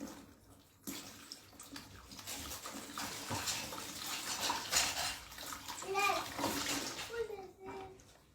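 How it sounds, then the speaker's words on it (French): Running water splashes steadily while someone washes their hands from a bucket, under a voice and other speech nearby, with a few brief tonal sounds near the end. "Je lave mes mains."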